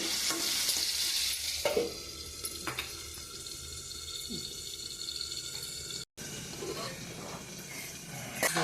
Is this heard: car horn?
no